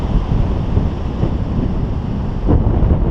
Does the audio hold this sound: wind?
yes